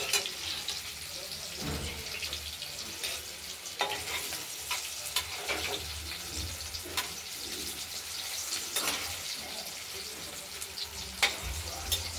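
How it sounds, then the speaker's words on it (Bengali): Paneer pieces fry in a pan with a steady crackling sizzle, broken by brief clinks and stirring scrapes, fairly close and moderately loud. "পনিরগুলো ভাজা হোক"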